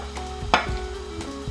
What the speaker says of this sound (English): I'm going to go ahead and add 200 grams of chopped onions